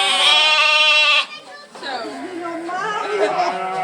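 A sheep gives a loud, drawn-out bleat up close, followed by people chatting in Dutch nearby with the animal sounds mixed in.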